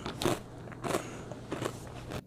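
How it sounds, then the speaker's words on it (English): Cinnamon Toast Crunch cereal being eaten close up, three crisp crunchy bites spaced roughly evenly over a couple of seconds against quiet background. "I eat cinnamon toast crunch."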